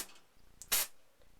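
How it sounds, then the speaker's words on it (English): Disinfectant is sprayed inside a guinea pig cage: one short, sharp hiss from a spray bottle, close by, preceded by a faint click and surrounded by quiet. "I'm just going to spray it"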